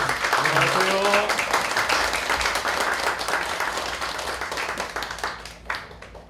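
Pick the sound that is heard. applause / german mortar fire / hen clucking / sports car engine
applause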